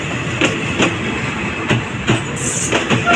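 Train 445 hauled by a GEA 4538 locomotive rolls into Surat Thani station, its wheels giving a steady clickety-clack with regular louder rail-joint beats over a constant rumble, close and with no talk.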